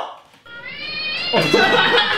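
A pet cat meows after being touched, a drawn-out rising cry up close, followed by a burst of noisy, laughing voices during a drinking game.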